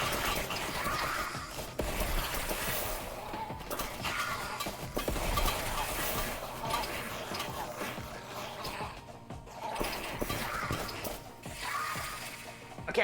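A horse neighs in a video game, a drawn-out whinny over a constant busy game soundscape with hoof clops and clatter, loud and continuous.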